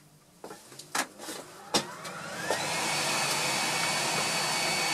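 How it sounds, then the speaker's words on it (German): A workshop vacuum cleaner used for dust extraction while cutting wooden Advent calendar stars with a saw; a few sharp knocks come first, then the motor spins up and settles into a steady, loud, continuous whine and whoosh. "Staubsauger wird eingeschaltet."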